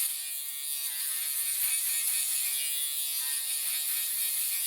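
An electric shaver buzzes steadily against the skin while shaving a mid skin fade up to the guideline, a close, continuous high whine without pause.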